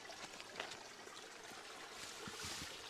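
Water trickles and splashes steadily over stone, soft and close, with small gurgling bursts and no voices.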